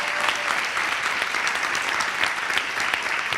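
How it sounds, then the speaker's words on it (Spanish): Dense, steady applause from an interview audience fills the whole stretch, many hands clapping at once with no pause and no voices rising above it. "Es un aplauso al Albacete, hombre."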